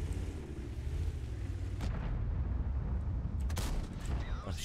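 An M103 tank fires HEAT shells in the game World of Tanks. Heavy booming cannon shots crack out at intervals over a dense, rumbling battle din, loud and close.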